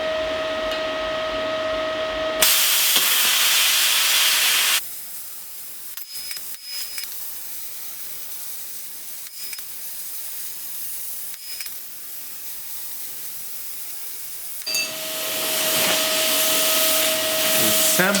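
Steel being cut with a plasma or oxy-fuel torch, a loud, steady broadband hiss that starts and stops in bursts, with quieter intervals in between and no talk.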